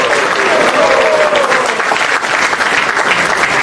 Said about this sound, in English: Let's give a loud high roll and a big round of applause to Prabhu.